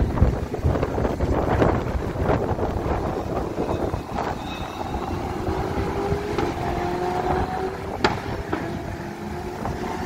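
Strong wind buffets the microphone in rough, continuous gusts at the Spa-Francorchamps circuit, with faint Porsche engine sounds passing in the background.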